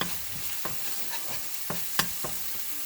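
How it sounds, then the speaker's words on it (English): Four eggs frying in the center of a pan with a breakfast hash, a steady close sizzle with several sharp spatula taps and scrapes, no voices. "Let those fry up in the center there a little bit"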